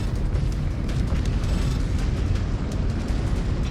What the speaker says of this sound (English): Orbital attack. Get orbital bombardment on the target.